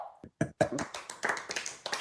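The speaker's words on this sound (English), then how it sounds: "You can applaud now" A small reunion gathering gives scattered, uneven applause, with a few sharp, close hand claps building into light, loose clapping.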